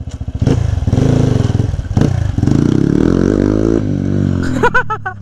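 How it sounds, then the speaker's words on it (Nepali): A new Crossfire motorcycle starts off on a ride, its engine thrumming and revving close by in uneven bursts, with a brief clatter near the end. "मैले चाहिँ हाम्रो बाइक चलाउन लाग्यो."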